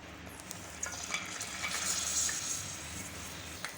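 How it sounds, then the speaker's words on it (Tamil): Curry leaves, ginger and green chili sizzle and crackle in hot ghee, a bright steady frying hiss with faint stirring, close and fairly loud. "இப்போ இது எல்லாத்தையும் நம்ம நெய்யில் சேர்த்துடலாம்"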